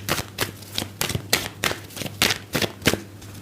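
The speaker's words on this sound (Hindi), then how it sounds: "एक कार्ड यहाँ पे अनफोल्ड हुआ है, बट मैं अभी इसको अच्छी तरीके से शफल करूँगी" Tarot cards being shuffled by hand, a quick run of crisp riffling bursts in an uneven rhythm, close and clear against a faint steady hum.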